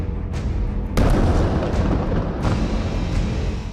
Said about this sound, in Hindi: पहला धमाका